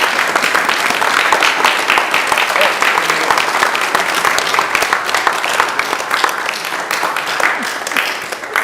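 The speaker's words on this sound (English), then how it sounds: "I think we need to give him a big round of applause" Audience at a historical society talk breaking into sustained, dense applause, steady and loud throughout with no talking over it.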